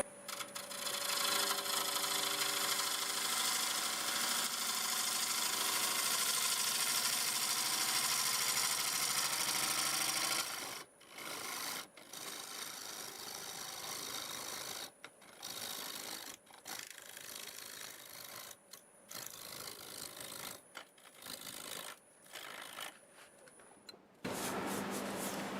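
Olive wood turning on a lathe at 795 RPM, a 1/2-inch bowl gouge scraping steadily in a broad hiss, then broken into short cuts and pauses with a quieter motor hum between them.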